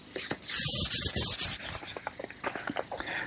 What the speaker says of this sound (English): a little more final sanding, and this table will be ready for the finishing room